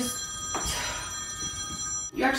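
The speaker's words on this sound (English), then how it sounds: "Now that the phone's ringing, I'm struck." An office telephone rings nearby with a steady electronic tone that breaks off briefly and starts again, clear over the quiet room.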